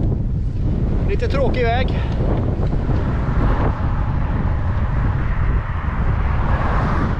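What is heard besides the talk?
wind blowing, headwind while bikepacking on Gotland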